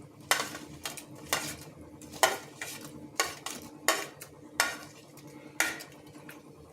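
A spoon mixes black salt and asafoetida into curd in a bowl, clinking against the sides in distinct, evenly spaced scrapes and knocks, fairly quiet and close, with no talking.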